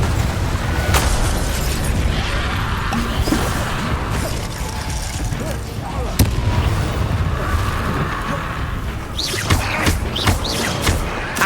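Confringo blasting spell explosions in the Hogwarts Legacy video game, sharp bursts and pops going off repeatedly over a dense, loud bed of combat effects and music, with a crackling cluster near the end.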